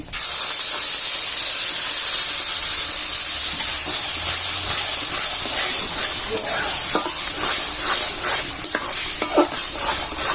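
Blended carrots frying in ghee with cardamom and cloves for carrot halwa give a loud, steady sizzle and hiss, with scattered stirring scrapes and clicks in the later seconds.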